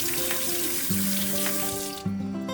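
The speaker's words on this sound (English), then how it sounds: "First, let's wash the mango thoroughly." Tap water runs steadily into a sink as a mango is rinsed under it, with a continuous splashing hiss and a couple of brief shifts in the flow, close and fairly loud with no voices.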